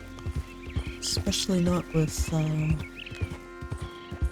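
Horse hooves clip-clop at a walking pace in Red Dead Redemption 2, evenly spaced thuds running beneath someone talking, with a brief whinny-like sound in the middle.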